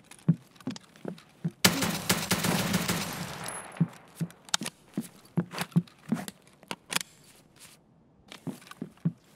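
Gunfire in the video game Escape From Tarkov: a dense burst of rapid automatic shots for about two seconds, then scattered single loud cracks and clicks at irregular intervals, close and alone.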